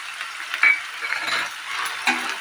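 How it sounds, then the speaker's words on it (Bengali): Onions frying with chopped tomatoes and green chillies for an echor chingri curry, a soft steady sizzle with a few stirring scrapes and clinks close by, no talk. "বন্ধুরা পেঁয়াজটা কিছুটা ফ্রাই হয়েছে"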